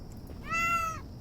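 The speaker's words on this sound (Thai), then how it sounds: "น้องแมวเหมียว" A single clear meow from a cat in the Kyoto Anomaly video game, one drawn-out harmonic call lasting about half a second, close and distinct over a quiet background.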